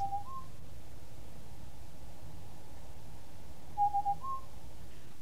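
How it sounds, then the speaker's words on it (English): Morning bird calls at a camp in Kenya: a couple of brief whistled notes near the start and a short run of repeated whistles later, faint and distant over a steady hiss of background noise. "We eat outside, listening to morning bird calls."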